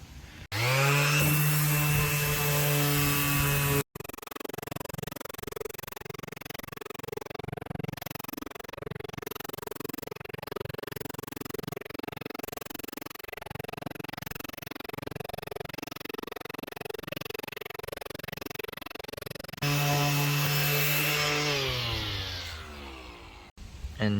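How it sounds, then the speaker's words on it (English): An IKEA timber table top being sanded with 180-grit sandpaper on a power sander, a loud continuous motor whine with gritty scraping that starts, briefly cuts out and runs steadily, then revs higher near the end. "When you sand the timber, some oil or grease or"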